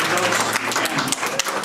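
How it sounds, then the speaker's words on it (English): An audience at a Portland City Hall council hearing on a street fee applauds, a dense, steady wash of many hands clapping at once, fairly loud and continuous throughout. "folks, let's not either applaud or boo our fellow citizens"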